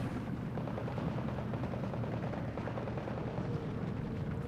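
In a Steel Division 2 WWII battle, 57 mm anti-tank guns ambush a Panzer IV amid a dense, continuous rumble of gunfire and distant explosions.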